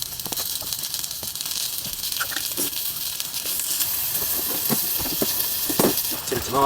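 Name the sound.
pepper and onion sizzling in oil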